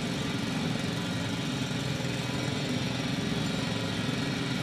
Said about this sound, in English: It's a drill! So damn loud!